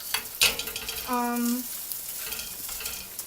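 Pork belly frying in a pan for okonomiyaki gives a steady, close sizzle, punctuated by a sharp utensil clack near the start and a brief squeaky scrape midway.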